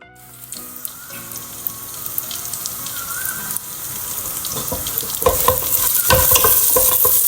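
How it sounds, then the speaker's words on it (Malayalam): Butter with garlic sizzling and frying in a pan for fish soup, a steady crackle with stirring scrapes and clinks, growing louder and busier toward the end. "ബട്ടറൊക്കെ നല്ലോണം സോട്ട് ചെയ്തെടുക്കാം"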